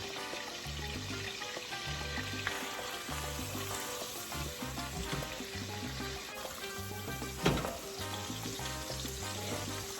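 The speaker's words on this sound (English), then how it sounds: "pour out some of the excess grease" Grease from chorizo made with 85/15 ground beef sizzles and crackles steadily in a pan as some of it is poured off, a close, even frying hiss with a brief louder splash near the end.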